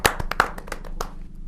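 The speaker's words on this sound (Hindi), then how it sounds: "तो मैं आपके और देश के इस प्यारे से वत्स को एक जोरदार तालियों से स्वागत करता हूं।" At a Hindi kavi sammelan, a few sharp, close hand claps sound in quick irregular succession to welcome a poet, then trail off after about a second.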